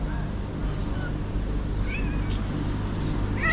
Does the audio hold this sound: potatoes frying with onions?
no